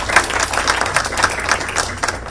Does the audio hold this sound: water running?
no